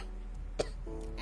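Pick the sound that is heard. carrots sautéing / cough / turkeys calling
cough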